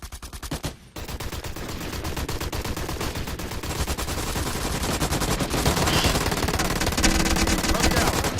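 Sustained automatic gunfire in the Xbox 360 shooter Special Forces Team X, rapid bursts running almost unbroken and growing louder, with a brief gap near the start and faint voices mixed into the din.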